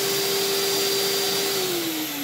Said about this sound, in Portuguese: Vou ligar, vai ver a rapidez com que ela aspira.